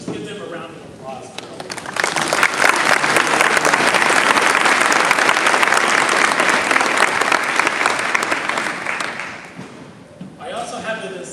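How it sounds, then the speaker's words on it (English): Audience at an engineering design showcase bursts into sustained loud applause for the teams, a dense wash of clapping that swells, holds for several seconds and tapers off, with talking before and after. "let's just give them a round of applause."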